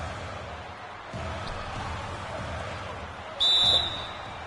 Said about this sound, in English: And there's the whistle. Fouled hard on the shot.